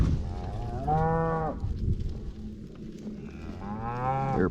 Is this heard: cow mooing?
yes